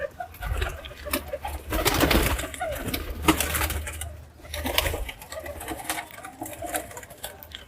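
Male pigeons coo in rising and falling bursts while being released, with fluttering and rustling in between, fairly close and uneven in loudness.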